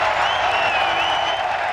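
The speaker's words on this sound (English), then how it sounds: "Listen to that crowd." Golf gallery at The Open at St Andrews roaring in a dense, sustained cheer that fills the short stretch at steady loudness, with whistles rising above the broad crowd noise.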